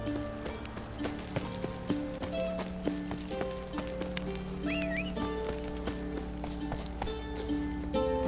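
Geralt's horse Roach galloping in The Witcher 3, rhythmic hoofbeats pounding steadily under a tonal background music score, with a brief whinny-like cry partway through.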